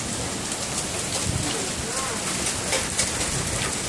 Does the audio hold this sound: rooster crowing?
no